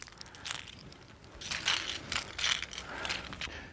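Faint, quick clicking rattles in a few short bursts from a fishing lure, like small hard beads shaken inside a plastic body, with quiet pauses in between.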